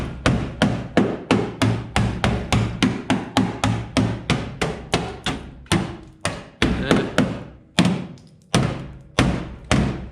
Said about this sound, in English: so I'm gonna hammer that out